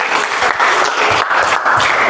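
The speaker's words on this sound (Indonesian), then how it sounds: "tepuk tangan buat Mas Ferry dan Mas Farid." Applause for two participants during a teacher-training class session, a dense, steady wash of clapping from a room of people that runs loud and unbroken throughout.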